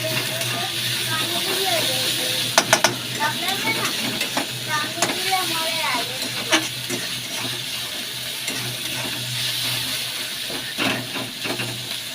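Spice masala frying in oil gives a steady close hiss and sizzle with occasional stirring clinks, while a person talks over it throughout.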